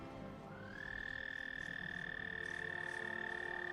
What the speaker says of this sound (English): Oh, we can hear the frogs.